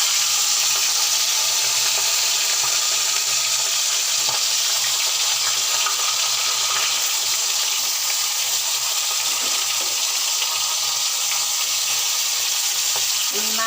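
Sea bata fish frying in oil in a wok, a steady loud sizzle with bubbling crackle that continues unbroken throughout.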